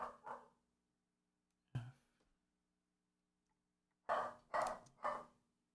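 A dog barks alone against quiet, faint surroundings: a single bark, then another, then a quick run of three, somewhat distant and not very loud.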